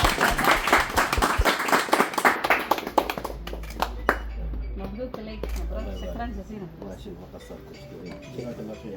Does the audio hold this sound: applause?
yes